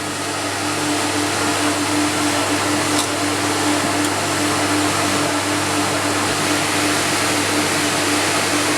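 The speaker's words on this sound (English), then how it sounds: "one motor running on the CamVac and the vacuum pump running" A CamVac dust extractor with one motor running alongside a vacuum pump gives a loud, steady broadband roar with a constant low hum, close and unbroken throughout.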